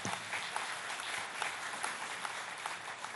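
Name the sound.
audience applause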